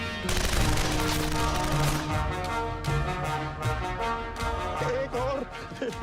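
Bursts of gunfire crackle among a busy, dramatic mix of music and voices, with sharp rapid shots scattered through the clip.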